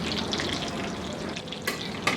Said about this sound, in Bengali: আর আমি একটু বেশি তেলে ভাজতেছি